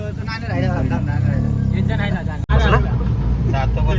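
An auto rickshaw engine drones steadily throughout a ride, loud and close, with a brief dropout midway, while several people talk over it.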